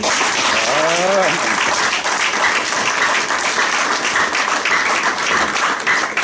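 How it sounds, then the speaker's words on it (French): Congregation applauding during a thanksgiving service in a church, steady dense clapping throughout, with a brief sung or spoken vocal phrase rising over it near the start. "Applaudissons encore."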